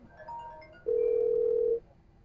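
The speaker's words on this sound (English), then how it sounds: "that's going to dial my phone as if I was in the house" A gate kiosk call rings a house phone: faint electronic tones give way to a single steady ring tone lasting about a second before it stops, over low background hum.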